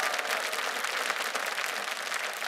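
Studio audience applause on a Russian evening variety show, greeting a folk-ensemble soloist as a guest; dense, steady clapping fills the whole moment at moderate loudness with no voices over it.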